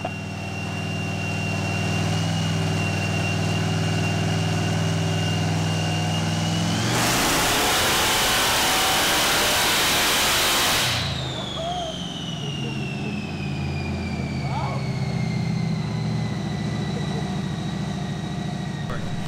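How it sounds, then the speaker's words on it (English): A modified C10 truck engine on a dyno holds a steady drone, then roars through a loud partial-throttle pull lasting about four seconds before dropping back to a falling idle hum, with a whine underneath. "He's only made like maybe not even 3/4 throttle pulls yet."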